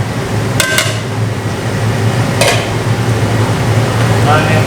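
Beaten egg and scallions sizzle steadily in a large catering-sized pan, with a few sharp metallic scrapes and clatters of a spatula stirring the mixture against the pan.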